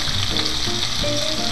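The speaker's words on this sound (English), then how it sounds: "going to fry it on one side, let the sauce to cook a little bit" Salmon fries in a pan with a sauce, giving a steady, close sizzle and crackle with light stirring noises throughout, no voices.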